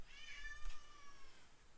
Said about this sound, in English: there's a screaming cat